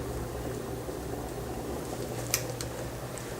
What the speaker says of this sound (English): the penne is now boiling